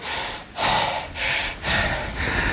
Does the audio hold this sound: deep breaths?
yes